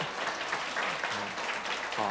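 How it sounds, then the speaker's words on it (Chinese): A congregation applauds during a church service, a steady wash of clapping with voices audible underneath. "有没有想要给他们掌声鼓励一下？"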